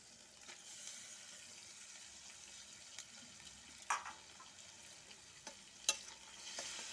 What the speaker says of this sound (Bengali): মাশরুমের সাথে ভালো করে মশলাটা কষায় কষায় ভাজবো